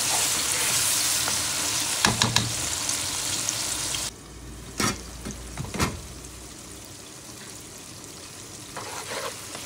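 Spice paste for chicken korma fries and sizzles in a pan as a spoon stirs it, with a steady hiss broken by a few louder scraping strokes. The sizzle drops away partway through and a quieter fry continues.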